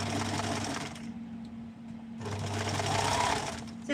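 A sewing machine runs steadily, stitching elastic onto muffs. The motor whirrs in two close, loud bursts with a short pause between them, and no talk is heard.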